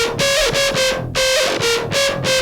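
Buzzy, distorted synth notes in short phrases, each pitch sliding up into the next and wobbling with vibrato, loud and up close.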